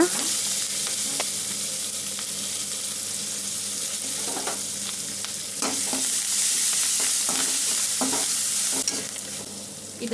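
Garlic rice with coriander stir-fried in a pan, a steady loud sizzle with scraping stirring strokes throughout, no voices.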